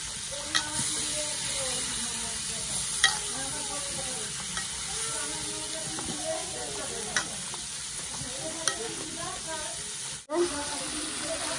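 Fish frying in a pan with loud, steady sizzling and occasional stirring scrapes, close up, continuous throughout with a brief dip near the end.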